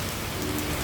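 Rain dripping during a storm in Bavaria gives a brief, steady, even patter with a soft broadband hiss, continuous and close.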